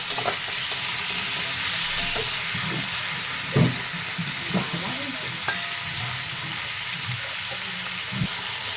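Boneless chicken and potatoes sizzle steadily as they fry together in a pan for chicken guniya, with occasional close scrapes and knocks of a spoon stirring through them, and no one speaking.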